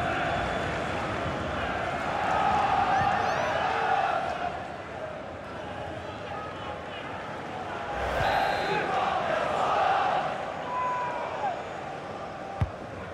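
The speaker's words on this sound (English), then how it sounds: "The crowd are playing their part." Stadium crowd in a FIFA football match on PS5, Lille against Wolfsburg in the Champions League, roars and cheers steadily throughout, swelling louder in waves with a sharp thud near the end.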